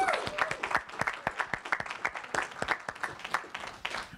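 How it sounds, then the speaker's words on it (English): A small audience at a university lecture claps for faculty, a modest round of individual, distinct claps that keeps an even pace before tapering off. "If you want to give them one more round of applause."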